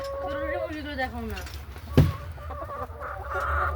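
Small chickens cluck softly while eating feed in snow in America, a few close calls over a low steady background with a brief knock near the middle.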